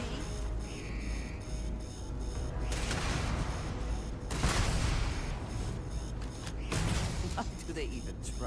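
Gunfire in the Starfield video game comes as repeated bursts of shots and booms over a continuous game soundtrack, fairly loud and close, with a player talking now and then.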